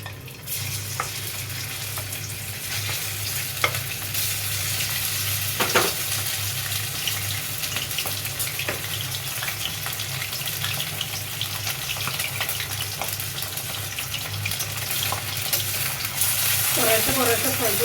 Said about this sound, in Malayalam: നമ്മൾ ചെറിയ തീയിലിട്ടിട്ടാണ് ഫ്രൈ ചെയ്യുന്നത്.